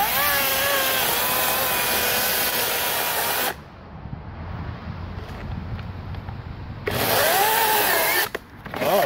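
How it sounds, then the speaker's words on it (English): A Greenworks 40-volt 16-inch GMax cordless electric chainsaw whirs loudly at close range with a steady high motor whine, drops to a low hum for several seconds, then surges back to full speed before briefly cutting out near the end. "Now that was an electric chainsaw."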